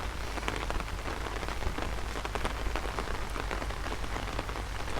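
Steady rain pours down on surfaces in a garden, a dense, even patter with scattered louder drops and no voices.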